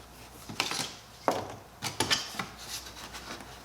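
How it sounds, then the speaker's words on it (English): Weather stripping is pulled off a Honda CR-V near the windshield cowl, giving a run of rubbing, scraping and peeling sounds in uneven bursts, close by with no talking. "Now you pull off your weather stripping"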